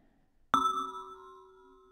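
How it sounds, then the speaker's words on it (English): Sonified molecular vibrations slowed tenfold ring out as a single bell-like strike, a clear metallic tone that decays slowly like a church bell or gong, heard alone. "it kind of sounds like a weird molecular church bell or meditation gong or something"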